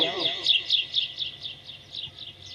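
Small bird chirping in a rapid, evenly spaced string of high, bright tweets that continue steadily throughout, with a brief voice at the very start.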